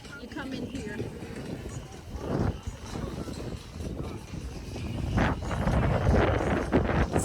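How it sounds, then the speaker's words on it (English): Gusty outdoor wind buffeting a microphone, a steady low roar rising in strength toward the end, while someone talks over it in a windy cruise port setting. "Sorry about the wind"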